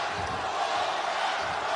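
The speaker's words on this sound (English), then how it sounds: "Crowd starting to chant here as we come to the end of 8" A boxing arena crowd chanting near the end of the eighth round, a dense, steady roar of many voices filling the hall without breaks.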